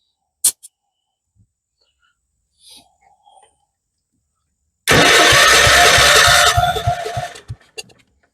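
A Kohler K301 engine on a 1976 Vermeer LS200 log splitter cranks during a compression test: after a few faint clicks and knocks, a loud, close burst of rapid rhythmic cranking runs for about two seconds, then winds down.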